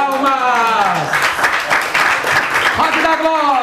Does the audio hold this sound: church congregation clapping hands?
yes